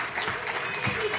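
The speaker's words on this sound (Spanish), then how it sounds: "les damos un aplauso para que se sienta como en el salón de casa" An audience at a Segovia provincial council awards ceremony for a nativity-scene contest breaks into dense, steady applause, a continuous wash of clapping filling the hall for a brief moment.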